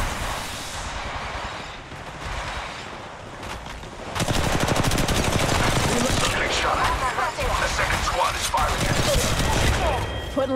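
Rapid automatic gunfire in the mobile shooter Apex Legends Mobile, dense bursts that grow louder and near-continuous after a quieter opening, with faint game voice lines underneath.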